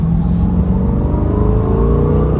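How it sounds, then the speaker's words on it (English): A Corvette's exhaust drones low and steady from inside the car while it drives in track mode, loud and continuous with a faint rising engine tone and no talk. "You can actually hear the difference in the exhaust and everything in track mode"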